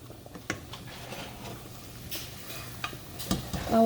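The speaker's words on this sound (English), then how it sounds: "let it saute for another 2-3 minutes" Potatoes sautéing in a pot for clam chowder, with a soft continuous sizzle and occasional stirring scrapes and utensil clinks close by, no talking.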